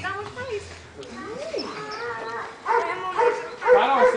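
A small dog yips and whimpers close by in short high bursts, mixed with people talking and laughing around it.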